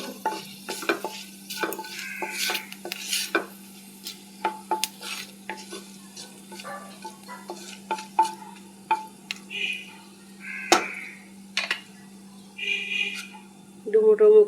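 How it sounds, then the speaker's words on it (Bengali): Dry red chillies and five-spice seeds tempering in a little hot oil in a pan after frying fritters, with scattered stirring scrapes and soft sizzle bursts, a steady low hum beneath, and a brief sharper sizzle at the end. "শুকনো লঙ্কা ফোড়ন।"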